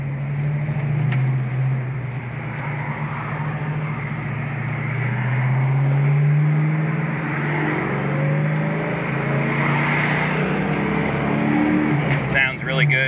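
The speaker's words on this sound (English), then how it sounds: "We have the ability to open up all the windows, so we're gonna do that so you can hear the exhaust" A 1993 Ford Mustang Cobra with an upgraded clutch drives with all windows open, its exhaust a steady, deep droning note that swells and eases slightly throughout, with someone talking over it.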